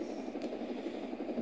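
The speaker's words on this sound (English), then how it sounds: "Let's customize our helicopter. Just land it." A helicopter in the Roblox game Jailbreak comes in to land, its steady rotor and engine drone holding even and fairly loud throughout, with no voices.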